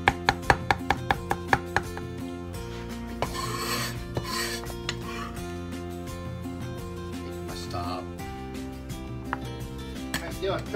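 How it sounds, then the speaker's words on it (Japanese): A knife finely chopping lettuce on a cutting board in a home kitchen, starting with a quick run of sharp, evenly spaced cuts and continuing as steady close rasping and chopping, with background music throughout. "細かく切っていく"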